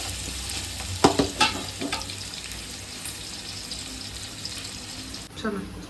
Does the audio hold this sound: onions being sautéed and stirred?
yes